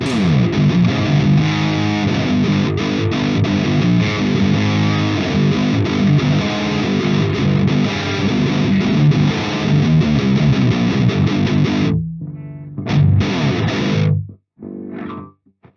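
Electric guitar played through an Orange Dark Terror amp with a thick, heavily distorted tone, loud sustained chords and riffs filling most of the passage before stopping, with a few short bursts near the end.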